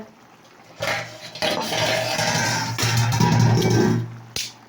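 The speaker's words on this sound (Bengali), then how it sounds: "এবারে তরকারি আমার ফুটতে লেগেছে" Curry in a pot on the stove, bubbling and sputtering steadily with some clinks of a utensil against metal, close and fairly loud, with no talking.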